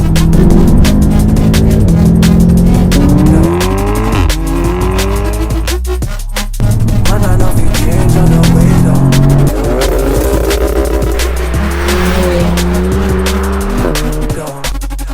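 A tuned 370 bhp Audi S3 8V pre-facelift revs hard and roars past, loud and close, its turbo engine climbing through gears with a brief lift and pop before pulling again, continuous throughout.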